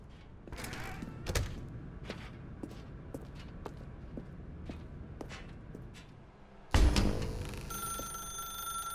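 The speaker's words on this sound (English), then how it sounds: "Now pick up the phone." A telephone rings in The Stanley Parable: Ultra Deluxe on PS5, its bright repeating tone starting abruptly late in the clip and sounding loud and steady after quieter ambient thumps.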